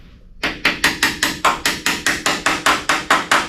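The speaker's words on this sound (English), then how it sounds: "Got my wrench hammer, or pliers hammer." A wrench used as a hammer strikes something in a steady series of about fourteen sharp metal bangs, evenly spaced and loud, each ringing briefly, during a 1972 Chevelle SS big-block engine install.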